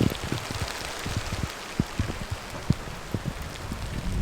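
Rain falls steadily outdoors during a brief storm, a constant soft wash of droplets punctuated by scattered sharper drips and taps on nearby surfaces.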